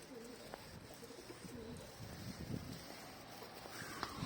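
A pair of pigeons coo softly at a moderate distance, with several low repeated calls over a quiet, noisy background and faint shuffling.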